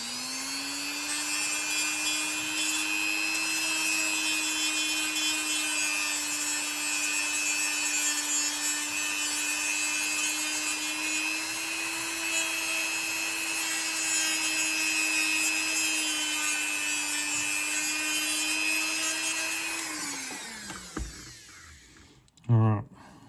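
A small high-pitched rotary tool whines steadily and close as it grinds material away from a slot car part for grub screw clearance, then spins down and stops near the end.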